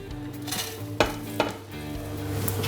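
Mixed seed and cranberry granola is stirred in a baking dish between oven bakes, with a soft steady rustle and two sharp clinks of a utensil against the dish.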